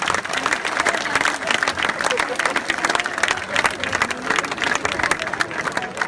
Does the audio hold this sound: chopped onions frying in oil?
no